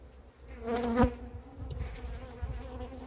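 Dense buzzing of honeybees from a swarm colony in a hive, a steady close drone that swells briefly near the middle and carries on without any talk.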